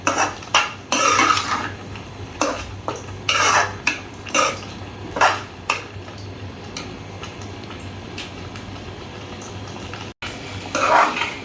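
A spoon stirs dal fry in a metal pot, giving repeated clanks and scrapes in uneven bursts over a steady low hum from a stove. The stirring is close and fairly loud.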